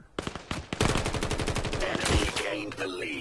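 Rapid automatic gunfire from a VR shooter video game rattles off in a dense, loud burst lasting a couple of seconds, trailing into a fading echo.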